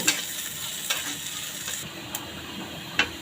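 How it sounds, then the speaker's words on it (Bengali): Onions and garlic fry in hot oil with cardamom, cloves and cinnamon, a soft steady sizzle broken by a few sharp clinks and scrapes of a spatula against the pan, with no talking. "লাল লাল করে ভেজে দিব"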